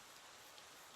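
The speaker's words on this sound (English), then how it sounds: "this rain is quite loud" Steady rainfall in Minecraft, a dense, even hiss of drops on surfaces that runs unbroken and fairly loud, with no voices.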